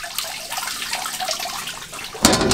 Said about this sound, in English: I will leave now water running like this for few hours,